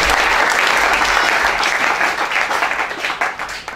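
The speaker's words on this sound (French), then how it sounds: "Voilà, sous vos applaudissements." Audience applause at a Sunday school gathering in a church tabernacle, dense steady clapping that thins and tapers toward the end, with no talking.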